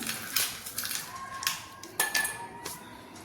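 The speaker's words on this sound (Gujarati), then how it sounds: "બરફના ટુકડા મૂકીશું" Ice cubes drop into a glass for fennel sherbet, making several sharp clinks and knocks spread unevenly over a few seconds in a quiet room.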